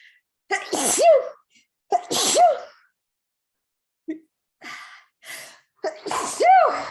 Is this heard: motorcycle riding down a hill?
no